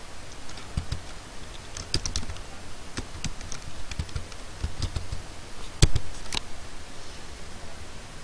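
Keys on a computer keyboard clack in irregular bursts while code is written, close and fairly crisp over a faint background hiss, with no talking.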